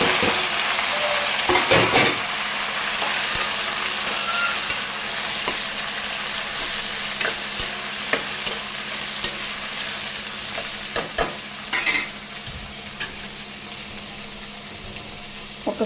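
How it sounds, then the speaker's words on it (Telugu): Onions, green chillies and coriander frying together for a mushroom curry, a loud steady sizzle with repeated clacks and scrapes from stirring across the whole stretch. "ఆనియన్స్, పచ్చిమిర్చి, కొత్తిమీర వేసేద్దాం మొత్తం."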